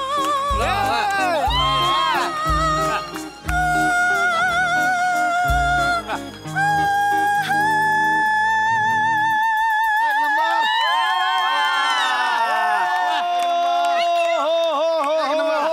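Studio audience at a Marathi comedy sketch show breaks into cheering and whoops after steady music, the crowd noise rising loud and sustained toward the end.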